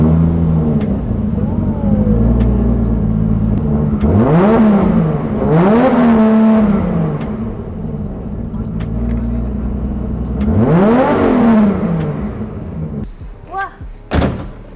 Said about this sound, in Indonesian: Wah, bagus banget suaranya ya. Iya dong, karena mesinnya kita pakai 2 JZ.